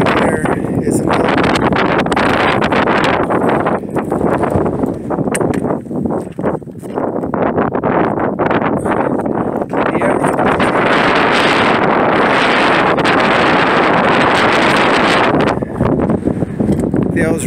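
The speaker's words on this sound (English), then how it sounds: "so it's pretty windy up here" Strong gusty wind buffeting an outdoor microphone on an exposed rise in Death Valley, a loud constant rumbling roar with crackling bursts that dips only briefly, while a voice talks faintly underneath.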